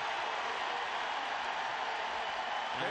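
A large football stadium crowd at a 2003 Alabama vs Ole Miss game roars steadily and loudly, a broad wash of cheering that swells slightly toward the end.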